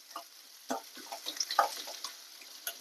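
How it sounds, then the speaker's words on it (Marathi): Lengthwise-sliced onion fries in a pan for a spring roll filling, soft sizzling with occasional louder stirring scrapes and taps, close and fairly faint. "आता प्रथम कांदा टाकायचा. कांदा उभा कापलाय, जास्त शिजवायची नाही हा भाजी."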